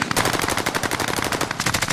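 Rapid automatic gunfire from a multiplayer shooter video game, a steady stream of loud, evenly spaced shots rattling for two seconds with no one talking over it.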